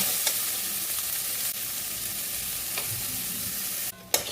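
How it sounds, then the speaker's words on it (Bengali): Tomatoes frying in a pan for chicken ghugni, stirred steadily, giving a continuous close hiss of sizzling with faint scraping, then a sudden louder burst of sizzle near the end. "আমি সমানে নাড়ছি এই টমেটোগুলো কিন্তু এখনও গোটা আছে"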